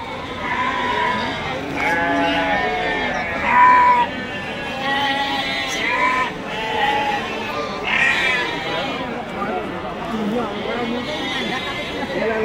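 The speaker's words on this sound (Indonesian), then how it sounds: "Pasar begitu berisik suara domba di tempat bakalan-bakalan" Many sheep bleat repeatedly at a busy livestock market where young lambs are separated from their mothers, overlapping cries rising above a constant murmur of crowd chatter.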